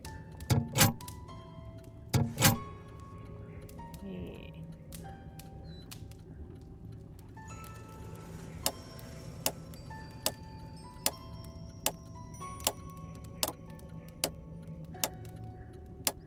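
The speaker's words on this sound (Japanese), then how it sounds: "音が聞こえる場所が見つかるまで文字盤を回し、正しい組み合わせを確かめよう。" A combination lock dial is turned in a Sherlock Holmes video game. After a few louder knocks, soft regular ticks and clicks follow at an even pace over a quiet, faintly humming background.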